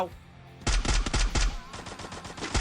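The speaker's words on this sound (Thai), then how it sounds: "ไม่รู้เป็นใครยิงกลับมาจังหวะนี้แตกไปเลยครับ" Rapid automatic gunfire erupts in a competitive clan match of an online shooter game, with sharp repeated bursts of shots up close after a quieter start.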